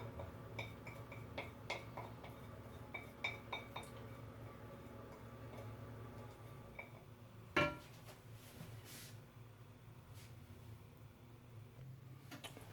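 Plate being set down in a quiet home kitchen, a few light clinks and taps of dishware, then one sharper clatter as it lands, followed by faint background hum.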